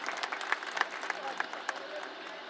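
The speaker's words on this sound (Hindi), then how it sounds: "इस बात के लिए भी एक बार जोरदार तालियां हो जाएं" Audience applause at a polytechnic college's annual function and alumni meet, a steady wash of many hands clapping with sharper individual claps popping through, fairly close and sustained.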